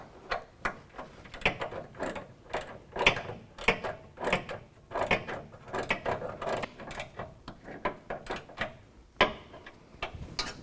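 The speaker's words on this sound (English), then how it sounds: "we can tighten it down with a 9/16 wrench and socket" A 9/16 wrench and socket tightening a nut on a Flowmaster Force II car exhaust system, producing a busy run of close metallic ratcheting clicks and taps in irregular bursts, without talk.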